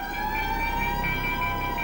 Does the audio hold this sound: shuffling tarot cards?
no